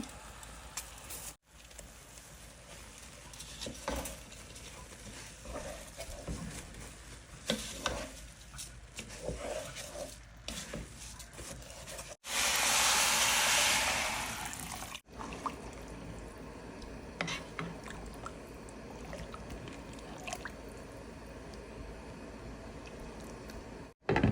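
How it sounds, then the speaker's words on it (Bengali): Rice is tipped into a pot of spiced khichuri mixture with a brief loud rush of grains, surrounded by continuous stirring, scraping and low sizzling from the pot. "খিচুড়ি মশলাটা ভালোভাবে কষিয়ে নিচ্ছি এখন এই যে চাল দিয়ে দিচ্ছি"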